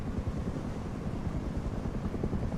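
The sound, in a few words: helicopter flying overhead in the video game Rust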